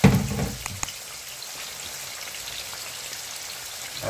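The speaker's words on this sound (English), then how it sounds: "we're gonna let that fry up" Chicken wings fry in a pan at medium to medium-high heat, a soft, steady crackling sizzle with a brief louder pop at the start, close and continuous with no voices.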